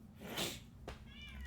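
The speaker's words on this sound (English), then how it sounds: "Yeah, that's my cat." A cat in the video game Life is Strange meows quietly, with a short, faint meow followed by a brief higher chirp over a low hum.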